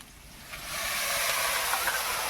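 Small splash of water hitting a hot turmeric spice paste in a pan for a mustard fish curry, bursting into a loud, steady steam hiss that swells after a brief quieter start and holds close and continuous.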